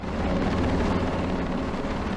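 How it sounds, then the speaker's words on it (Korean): A coast guard helicopter approaches a large passenger ship at sea off a port, its steady, loud rotor and engine drone filling the whole stretch without break or voices. "해경 헬기가 커다란 여객선을 향해 다가옵니다"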